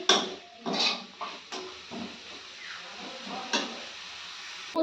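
A spoon clatters and scrapes against a cooking pot while spices, salt and turmeric are stirred in, giving sharp metallic knocks followed by softer scraping, close by.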